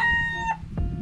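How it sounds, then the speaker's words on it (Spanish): A farm rooster crows once, a loud harmonic call with a rising end, followed by a short second squawk against low barnyard rumble. "el gallo."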